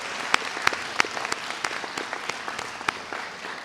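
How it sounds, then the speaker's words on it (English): Audience applause at a scholars recognition day ceremony, a steady wash of many hands clapping with a few sharper individual claps standing out, fairly close and alone. "Let's give ourselves a big round of applause."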